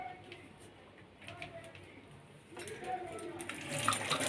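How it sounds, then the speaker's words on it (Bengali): Tap water runs while a lemon is rinsed at a kitchen sink, a soft steady hiss that swells louder toward the end, with a voice speaking over it. "লেবুটা একটু ধুয়ে নিই।"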